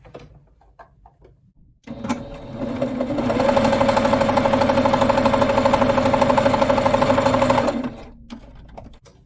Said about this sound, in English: I'm going to sew just up to the 3/8 inch mark right along this line here